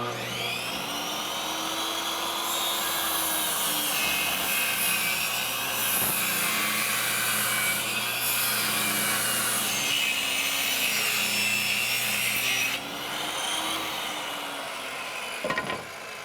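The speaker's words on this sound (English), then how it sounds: "I'm going to have to rip down some shims because under that heat, there's not a lot of room." A handsaw rips thin quarter-inch wooden shims during a carpet-to-vinyl plank flooring job, a steady, continuous rasping stroke that runs almost the whole time at moderate level, ending with a few sharp knocks.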